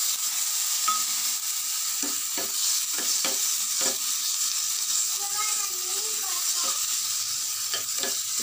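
Small shallots and a small tomato sautéing in a pan for chutney, spatula scraping and stirring in irregular strokes over a steady close sizzle.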